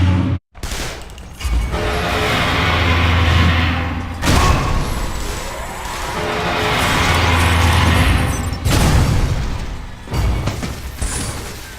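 Sustained gunfire and blasts in the Metroid Other M video game, a loud dense barrage of shots and booming impacts rolling continuously for several seconds with a few brief lulls.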